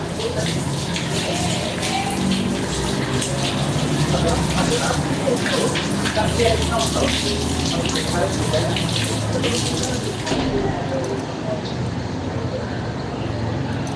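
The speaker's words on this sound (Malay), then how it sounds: "Di sini, kawan-kawan saya sedang mengambil air wuduk." A tap runs steadily as people perform wudu ablution, a loud continuous splashing rush of water that holds for most of the stretch before easing slightly near the end.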